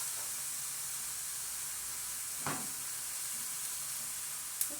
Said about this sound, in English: I was sweating the onions